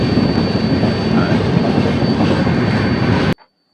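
Inside the second AC coach of the Grand Trunk Express, the train's steady rumble and rattling wheel noise fill the carriage, loud and unbroken until an abrupt cut near the end.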